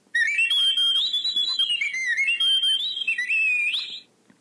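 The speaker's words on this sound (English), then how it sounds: "It's a whistle. It's gonna whistle." Electronic whistle from a phone app, a bright warbling tone that slides up and down in pitch for about four seconds, loud and close, then cuts off abruptly.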